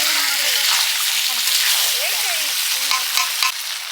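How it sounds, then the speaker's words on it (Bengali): Water poured into oil-fried mutton in a pan over a wood-fired stove, a loud rushing hiss and bubbling sizzle with faint clinks and a short knock near the end. "মাংসটাকে তেল ভেজে উঠেছে, এবার জল দিয়ে দিচ্ছি"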